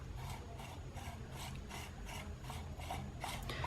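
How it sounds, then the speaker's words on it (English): A Pentax M 50mm f1.4 lens assembly being unscrewed by hand, a faint rhythmic rasping of threads turning in repeated short strokes, close and quiet. "Then let us unscrew this whole bit."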